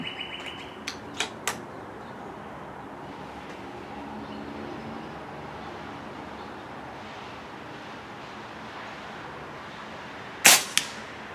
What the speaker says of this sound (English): I'm going to do one more. I haven't shot this Condor a lot lately.